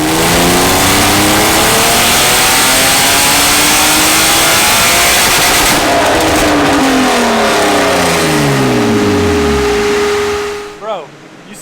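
A cheap, rusty BMW E36 drift car's engine revs hard and loud right up close, the pitch sweeping up and down repeatedly under the throttle before cutting off abruptly at the end.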